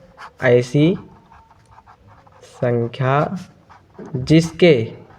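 Chalk or a marker scratches on a board in short strokes during a math lesson, under a teacher's clear, close speech.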